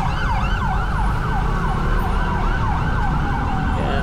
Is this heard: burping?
no